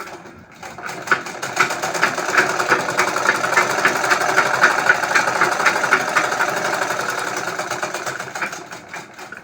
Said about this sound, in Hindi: इसी पे हम अब सिलाई चला देंगे